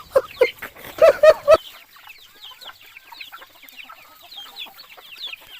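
Chickens clucking close by, a burst of loud clucks and squawks at first, then softer scattered clucking and chatter from the flock continuing in the background.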